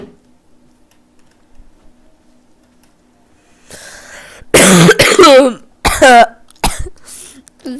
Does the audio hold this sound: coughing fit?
yes